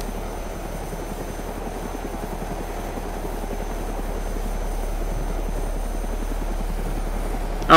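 Helicopter in the video game DayZ, a continuous, steady rotor and engine drone that holds level throughout, with no talking.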